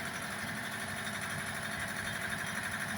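A tractor engine runs at steady working revs of 1,500 rpm while pulling a single-row potato digger, a constant mechanical drone and rattle without rising or falling, no speech.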